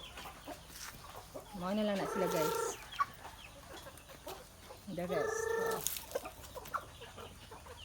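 Chickens on a backyard chicken farm in the rural Philippines, with two loud bursts of clucking or crowing over steady outdoor background noise while someone talks nearby.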